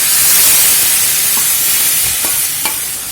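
Boiled vegetables stirred into a cooked-down tomato masala in a pan for veg kurma, a loud close hiss and sizzle with a few scraping strokes, tapering off toward the end, with no talk.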